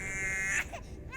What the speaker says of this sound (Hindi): लेकिन बच्चे के रोने की आवाज तो आ रही थी ना